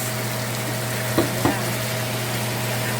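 Eel sautéing with garlic and onion in a pan makes a dense, steady sizzle under a low hum, with two faint taps from a utensil midway and no talking.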